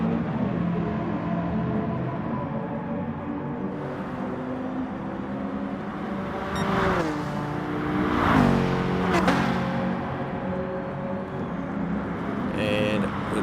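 A big Mercedes race car engine drones steadily in a GT Sport manufacturer race, with the pitch swelling and dropping through gear changes and faint passing cars. A commentator talks over it throughout.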